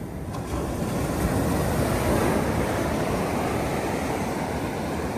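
Sea waves at Odesa wash steadily onto the shore, a dense, continuous roar of surf with wind rushing across the microphone, loud and close with no voices.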